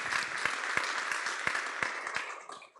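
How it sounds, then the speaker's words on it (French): Audience applause at a round-table discussion, a steady patter of many hands clapping at moderate distance for nearly three seconds, a few sharper claps standing out before it tapers off. "On peut les applaudir."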